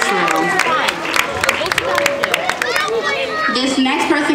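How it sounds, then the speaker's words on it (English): Crowd at the Summer Jam 2014 church youth concert applauding, clapping mixed with lively chatter and loud voices throughout, fairly close and busy. "Give another round of applause for the youth"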